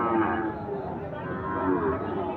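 A seven-month-old Sahiwal bull calf at a village cattle market gives a drawn-out, nearby moo that carries through the whole moment, with crowd chatter and talking around it.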